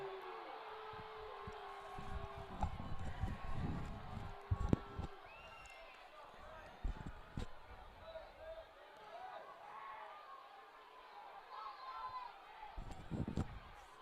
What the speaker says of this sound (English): A lot of murmuring from both sides of the crowd.